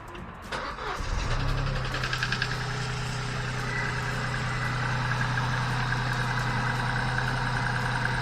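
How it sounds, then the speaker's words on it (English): A Vauxhall Corsa car engine cranks briefly and catches, then settles into a steady, even idle that carries on close by without any voices. "I shall start the engine"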